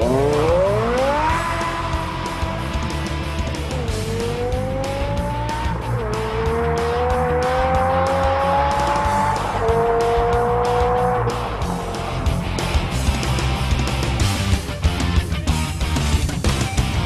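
A Dinan-built BMW V10, a naturally aspirated 5.7-liter stroker in an M6, revs hard through repeated rising gear pulls with brief dips at each shift, loud and close, with tire noise beneath and no talking.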